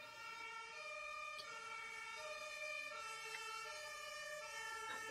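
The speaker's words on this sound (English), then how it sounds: "The siren just kind of fits." A steady wailing emergency siren holds throughout with layered tones, moderately faint and continuous, with faint road traffic underneath and no talk.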